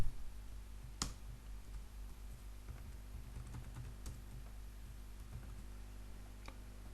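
Faint, quiet typing of code on a computer keyboard, scattered key clicks with one or two sharper taps over a steady low hum.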